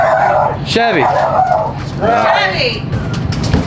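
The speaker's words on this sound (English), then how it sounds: "See, damn attack dogs." Dogs bark and yip in short bursts at an outdoor car-show campsite, with steady background chatter and crowd noise throughout.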